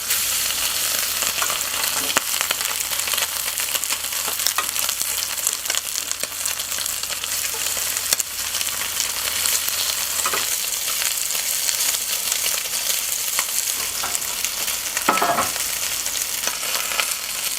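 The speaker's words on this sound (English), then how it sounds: "And then we're going to add the quail as well as the quail necks and give it a good stir from all sides." Quail and quail necks fry in olive oil in a Dutch oven, a loud, dense, continuous sizzle with occasional faint scrapes of stirring, no one speaking.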